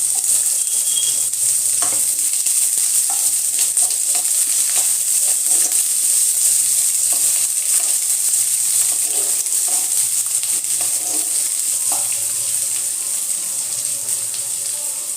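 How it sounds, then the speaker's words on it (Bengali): Chopped onion with bay leaf and whole cumin sizzles steadily in a hot pan, a constant loud frying hiss broken by occasional scrapes and stirs, with no talking. "পেঁয়াজটা হালকা লাল লাল করে ভেজে নেব"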